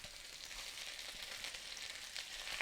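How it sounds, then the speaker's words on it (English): Four bacon slices cooking in a pan over medium heat give off a faint, even hiss of frying with no other sounds. "Starting with the bacon in a cold pan, I'm starting with 4 slices."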